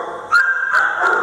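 A dog, a well-bred pampered animal, gives three close, loud whimpering yelps in quick succession with a whining, whistle-like tone between them, no voices present.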